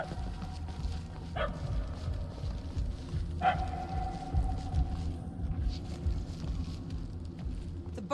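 Two distant dog barks from the video game Marvel's Guardians of the Galaxy ring out a couple of seconds apart, each with a lingering tail, over a low rumbling hum.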